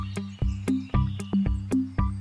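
A frog croaks in a steady rhythm near a pond, with regular sharp pulsed croaks about every half second over a low droning background, close and clear with no talking.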